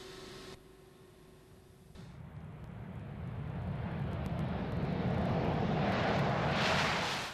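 Jet engines of an RAF Tornado rise steadily in a swelling roar of rushing air as they spool up, growing louder and fuller over several seconds after a brief quieter electrical hum at the start.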